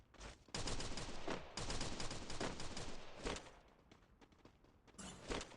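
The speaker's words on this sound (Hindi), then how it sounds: "ये मुझे शॉटगन चलानी है" Shotgun fire in the mobile battle game Free Fire during a Flame Arena event, heavy booming blasts packed together in a loud burst, then a quieter stretch and a final shot.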